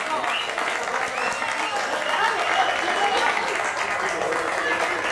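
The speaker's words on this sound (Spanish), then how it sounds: "Fuerte aplauso." Applause at a regional motor racing championship trophy ceremony: steady, fairly loud clapping from a crowd that holds evenly throughout, with a murmur of voices mixed in.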